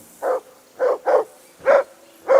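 A dog from Kingdom Come Deliverance 2 barks loudly and close by, five sharp barks in an uneven rhythm with quiet gaps between them.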